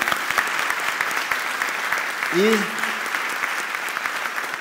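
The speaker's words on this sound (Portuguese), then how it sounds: "Uma salva de palmas para essa turma" Church congregation applauding at an anniversary service, a steady dense clapping wash filling the whole stretch at moderate level, with a brief voice cutting in near the middle.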